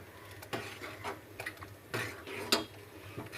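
Semolina being stirred in a pot for banana tharikanji, with soft, intermittent spoon knocks and scrapes against the pot, quiet and unhurried.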